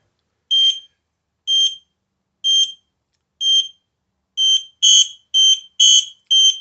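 Aegislink S-RF220 wireless interconnected smoke detectors sounding together: loud, shrill alarm beeps, first four evenly spaced, then a quicker run of overlapping pulses as more units join in.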